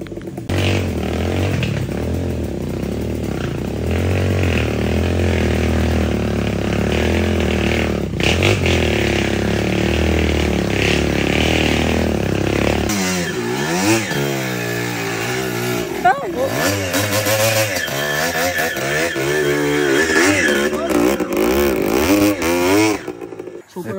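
Motorcycle engine revving hard and steadily while climbing a long, very steep trail between San Luis and Dingalan in Aurora Province, the pitch rising and falling with throttle, close and loud with voices talking over it.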